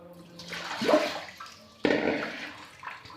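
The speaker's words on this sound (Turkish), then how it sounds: "Bir gün kadar karanlık ve ılık ortamda bıraktığımız buğdaylarımızı alıyoruz ve süzüyoruz" Soaked wheat grains are drained of their water, producing two splashy pours and rushes of liquid, close and fairly quiet, each swelling then trailing off into dripping.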